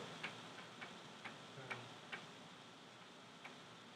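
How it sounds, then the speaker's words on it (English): A clock in a room ticks softly and steadily, faint and somewhat distant under a hiss of background noise, with no chime and no talking. "clock went bing"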